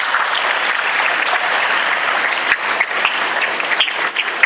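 Steady audience applause for Arunima Sinha, the climber who planted India's flag on Everest, filling a hall as dense, continuous clapping with small swells and a few sharper claps near the end.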